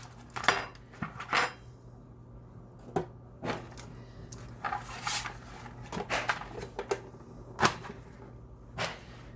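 A manual food chopper works through an onion with a quiet, irregular series of sharp plastic clicks and clacks, some quick and some spaced out, heard alone at low volume.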